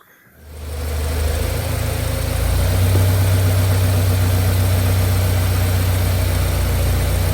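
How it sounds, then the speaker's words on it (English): A 6th-generation Subaru Outback engine turns over and settles into a steady, loud, rumbling idle that holds without change, warming up the CVT transmission. "Then we're going to need to start the engine"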